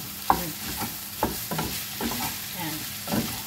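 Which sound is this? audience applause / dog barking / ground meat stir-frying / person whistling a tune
ground meat stir-frying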